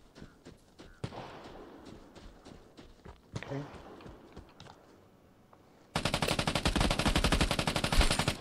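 Gunfire in the video game Vigor, with scattered single shots and footsteps at first, then a loud, sustained burst of rapid automatic fire toward the end.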